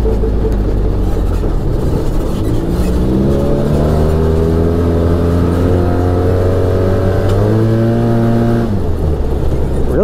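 An Arctic Cat Wildcat Trail XT side-by-side accelerates hard on a trail, its engine loud and close, rising in pitch through a gear change and climbing again, with no talking.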